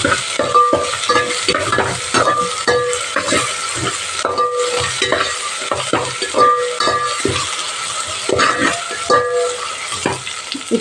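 Ginger garlic paste fries in a pan for bagara rice, a steady close sizzle broken by repeated scraping and stirring strokes of a spoon against the metal, with no talk.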